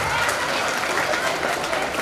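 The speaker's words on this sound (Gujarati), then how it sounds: "એકવાર જોરદાર તાળી થઈ જાય મુકેશભાઈ માટે" Hearty applause from a crowd at a Gujarati family community gathering, with dense clapping filling the room throughout and faint voices mixed in beneath it.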